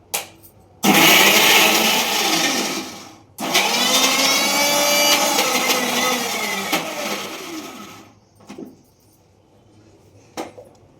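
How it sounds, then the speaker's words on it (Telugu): A kitchen mixer grinder runs in two loud bursts grinding tamarind for chutney, its motor whining with a rising pitch, then stops, followed by a few light clatters of the jar. "ఇదిగోండి ఇలా మొత్తం మెత్తగా మిక్సీలో వేసేసుకుని మనం ఒక దాంట్లో పెట్టేసుకోవాలన్నమాట."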